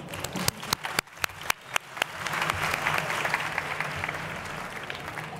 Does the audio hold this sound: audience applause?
yes